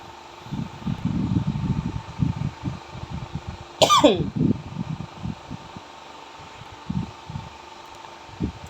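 A single sharp cough bursts out midway, preceded by a low murmur of talk and followed by quieter speech over a faint fan hum.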